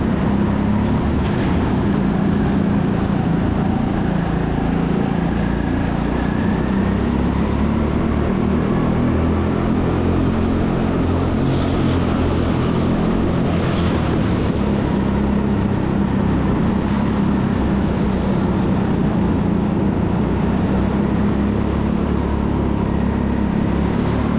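Go-kart engines race at the TeamSport Sheffield indoor track, a steady close-up engine drone running throughout with shifts in pitch, no speech.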